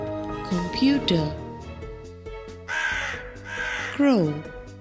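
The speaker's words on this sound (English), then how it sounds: "Crow." A crow caws in a few harsh, rasping calls spaced over several seconds, set against a light musical backing, with a voice speaking between the calls.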